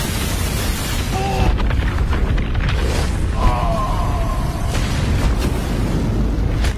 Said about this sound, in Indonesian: Tubuh Panya secara berangsur-angsur meledak